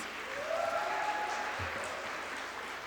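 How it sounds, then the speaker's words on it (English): Audience applause at a university convocation ceremony, a steady wash of many hands clapping at moderate distance in a large hall, continuing throughout without speech. "Clapping for all these legends,"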